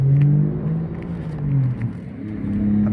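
A 2020 Yamaha MT-03 motorcycle on upgraded tires being ridden, its engine note humming and rising and falling in pitch as the throttle changes, close and steady with no speech.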